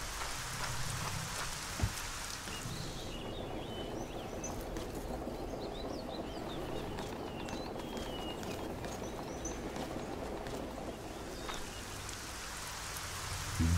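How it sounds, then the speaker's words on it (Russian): Steady rain pours down in the video game Arcania: Gothic 4 across the whole stretch, a dense even hiss with a few birds chirping faintly in the background. "Дождь поливает."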